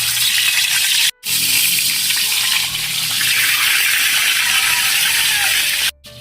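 Tilapia fish sizzles and crackles loudly in hot cooking oil, a dense, steady hiss running close throughout, broken by two brief sudden gaps of silence.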